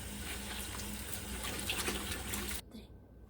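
Running water from a kitchen tap pours in a steady, even rush and then cuts off abruptly near the end, with faint background sound.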